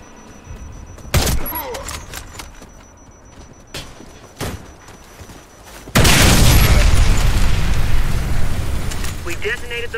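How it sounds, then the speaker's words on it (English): A video game bomb detonates with a sudden loud blast that rolls into a long roaring rumble, after several sharp impacts and pops in quieter game ambience. "detonated the bomb"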